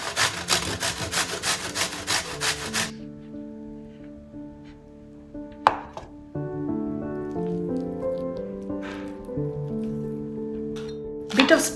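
A firm courgette rubbed rapidly against a grater, a loud rhythmic rasping for the first few seconds before it stops and soft music takes over.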